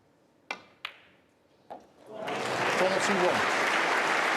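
Packed snooker crowd at Alexandra Palace applauding during the Masters quarter-final, preceded by three sharp isolated knocks before the clapping swells into sustained, loud applause.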